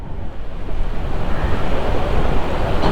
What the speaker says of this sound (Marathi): उत्तन का समुद्र।